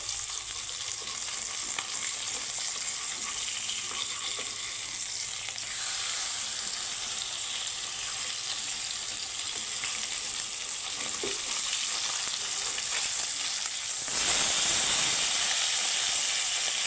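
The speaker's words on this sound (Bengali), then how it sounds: "এখানে আমি তিন পিস তিন পিস করে ভাজবো যেহেতু মাছের পিসগুলো একটু বড়" Loud, continuous sizzling of large rui fish pieces frying three at a time in oil, a dense crackling hiss that swells briefly near the end.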